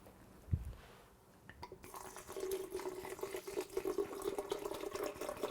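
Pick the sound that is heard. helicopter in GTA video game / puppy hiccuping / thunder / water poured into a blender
water poured into a blender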